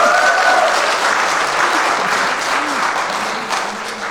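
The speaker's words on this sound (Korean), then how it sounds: "박수는." Sustained audience applause at a forest therapy program competition, close and loud, even clapping throughout with a faint voice murmuring beneath.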